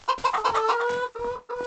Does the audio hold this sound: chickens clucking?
yes